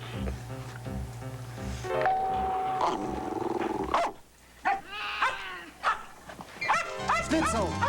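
Schnitzel the dog barks at night in a series of loud, uneven yaps and yowls, mixed with someone talking.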